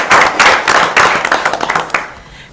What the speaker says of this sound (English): I want to give a little round of applause for him